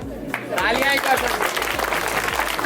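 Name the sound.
audience applause for the speaker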